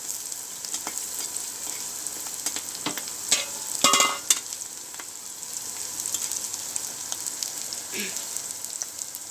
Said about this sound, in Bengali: কড়াইতে তেল দিয়ে তেল গরম করার পরে পেঁয়াজগুলো ভেজে নিতেছি